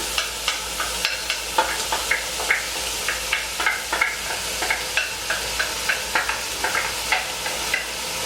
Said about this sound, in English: And then I'm going to put in the onions, and that all cooks at the same time together.